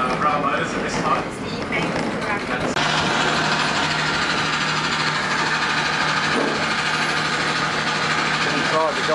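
A Gulflander rail motor's engine drones steadily from nearby inside the railcar as it nears Croydon, a loud continuous rumble with a low hum that grows denser partway through, with voices talking over it.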